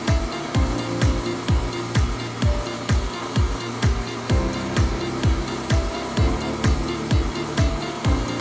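Abrasive blasting through a 12 millimeter nozzle strips paint from a Rolls-Royce part, a steady loud rushing hiss broken by a fast regular pulsing thump, close and continuous, with no talk over it.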